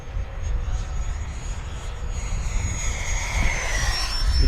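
An FMS Super Scorpion 70mm EDF RC jet passes at full throttle with a rising, whooshing ducted-fan whine over wind rumble, the high-pitched tone sliding as it speeds by outdoors.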